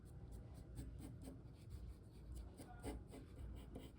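A pencil drawing an ear on paper during a face-drawing lesson, soft continuous scratching and rubbing strokes with small tapping accents, close but faint against low room noise.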